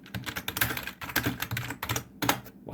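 Typing on a computer keyboard, a quick irregular run of close, crisp key clicks with brief pauses between bursts, heard alone without speech.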